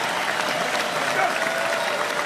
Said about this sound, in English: a big round of applause for the circus